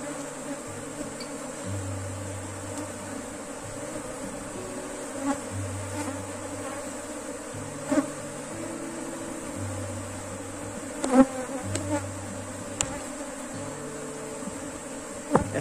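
A honeybee swarm without a queen buzzes steadily at a hive being split with one frame, a dense close drone lasting throughout with a few brief knocks and handling sounds.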